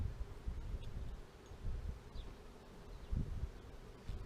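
Honeybees hum in a steady low drone around an open hive as a newly installed queen is released from a package into it, a soft close buzz with slight swells and no voices.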